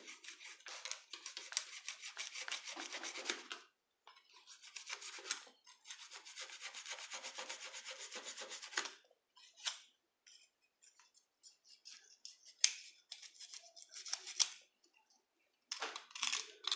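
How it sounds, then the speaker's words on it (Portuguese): A utility knife saws through braided sisal rope in several long rasping strokes separated by short pauses, close and fairly quiet, with no one speaking. "Eu pego a estilete, eu vou cortar com a estilete"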